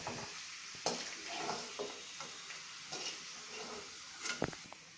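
Coconut pieces fry in a pan with a soft, steady sizzle, broken by a few sharp clicks and stirring knocks, fairly faint and alone.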